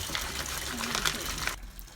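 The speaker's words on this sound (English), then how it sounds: "while the washing machine continues to fill up with water" Water gushes steadily into the tub of a washing machine as it fills, a close, continuous rushing that cuts off abruptly near the end.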